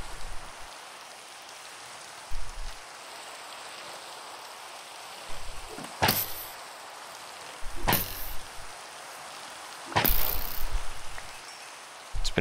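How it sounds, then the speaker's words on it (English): Steady rain falls in the Minecraft video game, a soft continuous hiss, with a few sharp louder bursts and thuds breaking in now and then. "And it's starting to rain."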